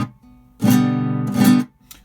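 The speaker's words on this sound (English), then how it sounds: "use the same motion and damp the sound so the strum would sound like" Palm-muted guitar strum, the edge of the strumming hand resting on the strings to damp them: a short, close burst of two quick chord strokes, then silence.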